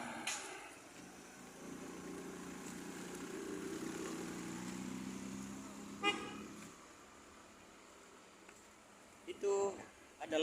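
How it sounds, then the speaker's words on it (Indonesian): At the Dangerakko bus terminal in Palopo, South Sulawesi, steady traffic and engine murmur fills the space while short car horn toots sound at moderate distance. "Inilah situasi di dalam Terminal Kota Palopo,"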